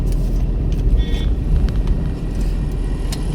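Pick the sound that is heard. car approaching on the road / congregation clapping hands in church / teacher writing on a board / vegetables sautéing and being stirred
car approaching on the road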